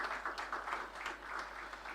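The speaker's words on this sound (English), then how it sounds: "let's clap for them" Faint clapping from the audience at a medical and dental practitioners' annual general meeting, a thin, fairly even patter of hands heard from a distance.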